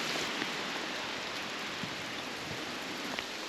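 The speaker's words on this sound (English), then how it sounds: "obviously because it's raining" Steady rain falls on a wet hiking track near Waratah, Tasmania, a continuous even hiss with scattered drop ticks, with no voices and no breaks throughout.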